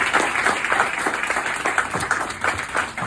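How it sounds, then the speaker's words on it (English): A crowd at a Queens County Judge Democratic primary celebration applauds a speaker: brisk, steady clapping, close and lively, with a few louder individual claps popping out of the even patter. "Let's give him another hand clap."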